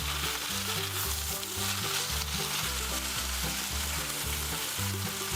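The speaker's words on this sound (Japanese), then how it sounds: "切っておいたキャベツ、しめじを入れ、さっと炒めて野菜全体に油をなじませます。" Cabbage and shimeji mushrooms stir-fry in hot oil in a pot with a constant loud sizzle, close up, with low clatters from the pan underneath.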